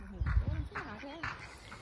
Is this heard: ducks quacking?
yes